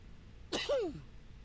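A single sharp sneeze from a character in a zombie video game, a quick burst followed by a falling voiced tail, heard over faint background noise.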